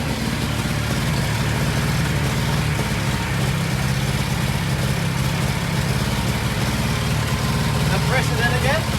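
A Triumph Roadster engine under restoration runs steadily at idle as the clutch is lifted. The low, even drone is loud and close throughout, with no talk over it.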